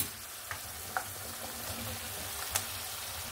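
Drumstick vegetables dropped into a sizzling mustard-poppy seed paste in a pan, a steady soft frying hiss with a few sharp crackles and pops, fairly quiet and close.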